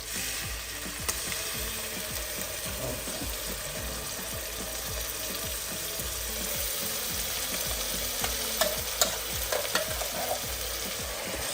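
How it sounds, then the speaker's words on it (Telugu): A special masala paste for mutton curry fries in a pan with a constant close sizzle and repeated spatula scrapes and stirring taps throughout, without any talking. "సో ఈ పేస్ట్ని మంచిగా ఫ్రై చేసుకున్నాం ఫస్ట్"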